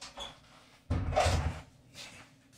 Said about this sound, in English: hold on, let me close this door, Salakia.